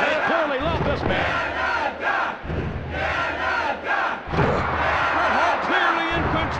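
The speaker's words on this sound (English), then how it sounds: "Listen to this crowd." Roaring arena crowd in a wrestling video game, loud cheering and chanting that surges and dips in waves, with thuds from the ring and a commentator's voice mixed in.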